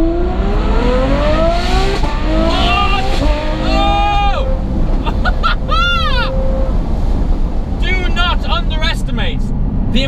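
Through a slightly opened window, a Novitec N-Largo Ferrari F12 revs in several rising and falling sweeps, with short sharp blips near the end, over constant rushing wind and road noise.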